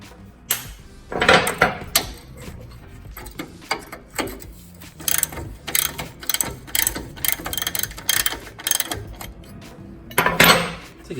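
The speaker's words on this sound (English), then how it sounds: "I'll switch to a shorter ratchet so it's easier." A short ratchet loosening a bolt on a Mitsubishi Montero suspension during a Koni Heavy Track install: bursts of rapid clicking pawl strokes, close and loud, separated by brief pauses, with light metallic clinks.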